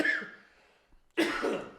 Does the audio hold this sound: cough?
yes